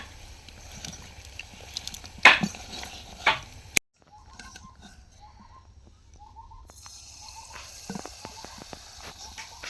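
Eggplant chops coated in gram-flour batter fry in oil with a steady sizzle and loud spatula scrapes and knocks, then a quieter stretch of gentle frying with faint bird chirps in the background.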